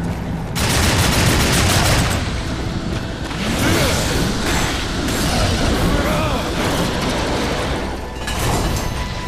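Continuous loud gunfire and combat effects in the video game Darksiders 2, a dense barrage of rapid shots with booms and whooshes filling the whole stretch.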